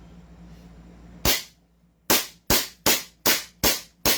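Six sharp gunshots come from an Ersop 1911 pistol at an outdoor range, irregularly spaced, with the first shot standing alone and the rest following in a quicker string, each with a short decaying tail.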